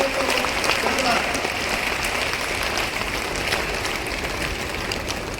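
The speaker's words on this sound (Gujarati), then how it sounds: "એક વખત તાળીઓના ગણગડાટ" A large outdoor crowd at a welcome for Prime Minister Modi at an airport in Vav-Tharad district claps in a steady, even roar that holds at the same moderate level throughout, with voices faintly underneath.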